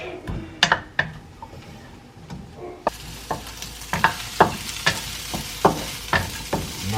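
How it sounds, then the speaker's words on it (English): Onion and capsicum fried briefly in a pan for sweet and sour chicken, with a soft sizzle under repeated sharp spatula clicks and scrapes that turn into a brisk, rhythmic stirring. "Then the veggie is onion, capsicum. Just fry it a little bit, not too much."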